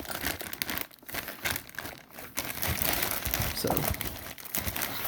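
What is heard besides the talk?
unwrapping a wrapped car charge pipe package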